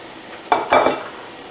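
Cheesesteak meat with peppers, onions and mushrooms on a hot griddle gives two short, close bursts of sizzling and scraping, then fades into a low, quiet hiss.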